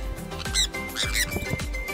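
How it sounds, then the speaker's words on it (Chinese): Small pet birds squawking at a crowded pet exhibition in Bangkok, several short shrill calls close by over a steady background hum. "哎，这只小鸟好乖哦！"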